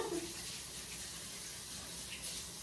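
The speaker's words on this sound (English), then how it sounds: "let me wash my hands" Running tap water pours steadily into a sink as hands are washed before cooking, a soft continuous hiss with a brief splash at the start, fairly faint and alone.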